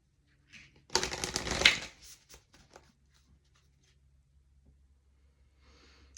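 A deck of oracle cards gets one quick riffle shuffle, a dense papery burst about a second long, then soft card handling and faint rustles in a quiet room.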